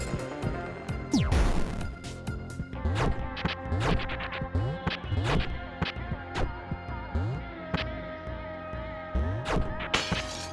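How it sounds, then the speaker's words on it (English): Window glass shattering in the video game Lazr, a rapid run of about a dozen loud, sharp breaking crashes with bright tinkling shards, spaced roughly a second apart over a continuous background. "Windows and glass shards have been added"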